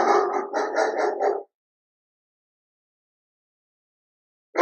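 A large German Shepherd gives a quick run of four or five loud barks, then stays silent for several seconds before a single bark starts again at the end.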